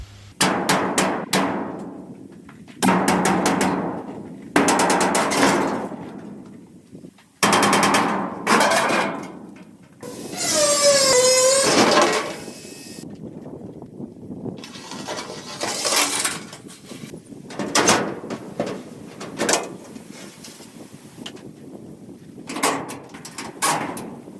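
Tin sheets being pulled off a grain bin roof, with loud metallic clanks, bangs and scraping bursts in irregular clusters, one long wavering screech midway, close and without talk.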